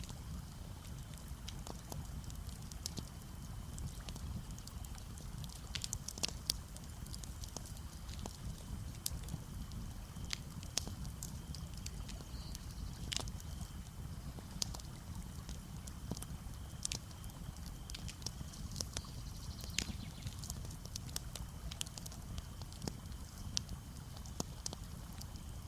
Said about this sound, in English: activated bonfire.